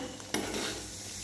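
Onion masala fries in oil for a chicken leg curry, a steady close sizzle with a sharp scrape of a spoon stirring the pan partway through.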